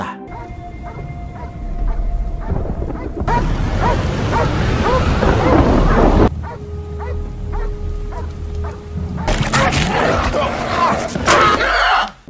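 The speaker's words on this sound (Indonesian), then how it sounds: "Anjing peliharaan Curtis pun tak henti-hentinya menggonggong." A pet dog barks repeatedly, loud and close, during a storm with a tornado. The barking comes in bursts between stretches of roaring, rumbling noise, with music and some voices mixed in.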